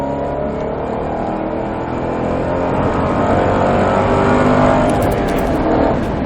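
A car engine roars loudly and steadily on a race track, its pitch climbing as it accelerates, with no talking over it.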